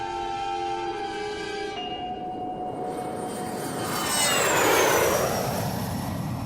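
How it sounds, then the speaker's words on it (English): Airplane landing as a radio-drama sound effect: a steady engine drone with tonal whine that shifts, swelling into a louder whooshing roar as the plane passes close before settling again. "Ladies and gentlemen, in a few moments we shall be landing."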